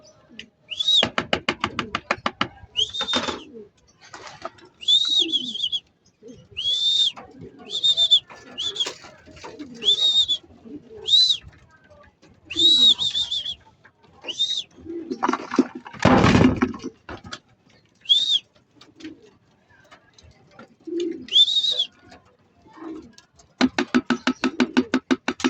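Pigeons coo in repeated soft bursts with pauses between, mixed with rapid clicking and fluttering, close and fairly loud.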